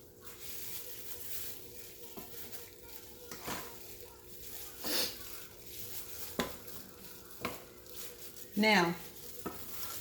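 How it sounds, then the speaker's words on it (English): Tomatoes and seasonings are stirred together in a bowl for crock pot lasagna, giving intermittent scraping and wet mixing strokes at close range. A voice speaks a single word near the start. "let's get these tomatoes mixed up and these seasonings blended well here together"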